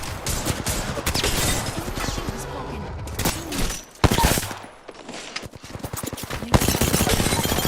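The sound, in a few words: shotgun firing repeatedly in video game Apex Legends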